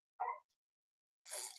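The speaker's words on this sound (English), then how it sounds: "I got my dogs in the front yard" Dogs in a front yard give two short barks, one low and one sharper, separated by a pause, faint and a little distant with no talk.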